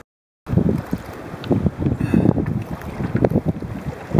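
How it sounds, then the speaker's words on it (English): Wind sweeps over choppy Lake Superior water, buffeting the microphone and mixing with lapping waves against a small boat in a loud, gusty rush. "And a nice wind blowing us back."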